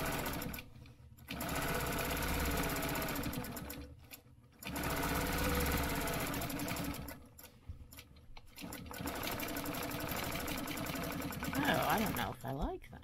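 A sewing machine runs in several bursts, stitching lines across fabric with a fast mechanical whir that stops and restarts. A voice speaks quietly between and under the runs.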